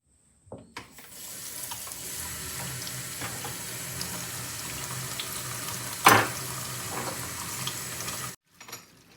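Tap water gently pours over lion's mane mushroom to rinse it, a steady close splashing stream running for about eight seconds with one brief louder splash before it cuts off.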